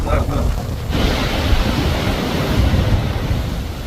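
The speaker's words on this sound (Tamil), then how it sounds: "சரியான காற்று." Strong wind on the Vaasimalai hilltop roars steadily into the microphone as loud, continuous gusting buffeting, with no break across the whole stretch.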